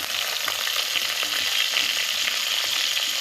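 Cumin, onion and green chili frying in a pan, a close, steady crackling sizzle with faint stirring taps mixed in, no voices.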